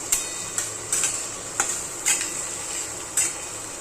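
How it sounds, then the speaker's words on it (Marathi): Onion frying over a raised flame until brown gives a steady light sizzle, broken by about half a dozen sharp spatula taps and scrapes against the pan at irregular intervals. "गॅस थोडा मोठा करते आणि हे ना एकदम ब्राऊन कलर होईपर्यंत कांदा भाजायचा आहे."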